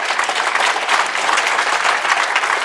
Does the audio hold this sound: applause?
yes